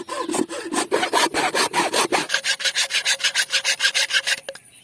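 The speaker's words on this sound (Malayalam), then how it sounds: "ഇനി ഇതിന്റെ ഈ ഒരു ഭാഗം നമുക്ക് ചെരിച്ച് കട്ട് ചെയ്തെടുക്കാം" A small hand saw cuts through a piece of bamboo at an angle, making rapid, even back-and-forth rasping strokes up close that get lighter before stopping with a faint knock.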